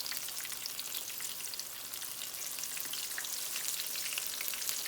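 Halved lobster tails coated in tempura batter fry in hot oil, giving a dense, continuous crackling sizzle like steady rain, close and even throughout with no talking.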